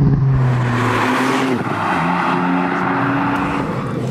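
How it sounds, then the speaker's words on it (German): A Ford Fiesta ST with 200 hp and twin flap-controlled exhaust pipes roars under throttle, heard from inside the cabin; the engine note rises and shifts pitch continuously, loud and alone, with rough exhaust texture as the throttle eases. "Und dabei hört man so schön das Röhren des Motors und das Knattern der Schubabschaltung, wenn ich dann mal vom Gas gehe."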